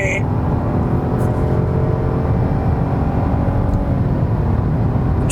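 A 2020 Opel Astra facelift cruises at speed on a German Autobahn, giving a steady, loud broadband road and wind roar with low engine rumble, continuous throughout with no talk over it.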